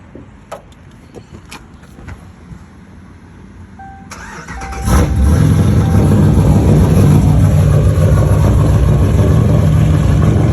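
A car with a 5.7-based 392 stroker V8 that is not starting cold: after a few clicks and a brief starter whine, the engine fires and settles into a loud, steady, rumbling idle close by, with no talk.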